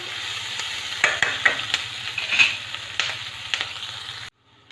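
Soya chunks fry in a pan for soya chilli paneer while a spoon stirs and scrapes them in repeated clacks over a steady close sizzle, which cuts off at the end.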